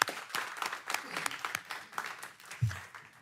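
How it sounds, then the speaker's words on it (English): Applause at a council meeting after the police chief presents a new vehicle: scattered clapping from the room with a few louder individual claps, overlapping a man's speech and a brief low thump near the end. "Give him a round of applause."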